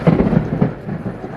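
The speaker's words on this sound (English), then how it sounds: "It's raining a lot now" Heavy rain falling steadily, a dense close wash of noise with low rumbling pulses underneath, loud and continuous with no voices.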